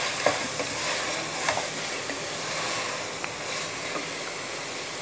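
Masala and vegetables for veg biryani fry in a pan while being stirred, a loud close sizzle with repeated scraping strokes and light clanks of the spoon.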